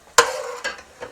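Frizzled capicola in a hot pan, scooped out with a slotted spoon: a sudden loud sizzling scrape that fades, followed by two softer stirring bursts close by, with no talking.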